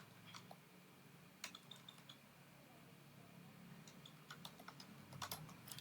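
Typing on a computer keyboard, a quiet, irregular run of light key clicks with a few sharper taps, close up against a faint steady room hum.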